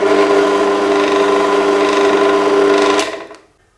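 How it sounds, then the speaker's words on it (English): A small, light Energer pillar drill runs at its slowest speed as a steady, close mechanical whine and hum, then cuts off and winds down to silence near the end. "because this is a small light drill, when you go to switch it on, it will move around"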